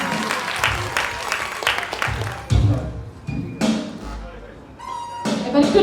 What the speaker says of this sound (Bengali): সবার কাছে একটি হাততালি চাচ্ছি।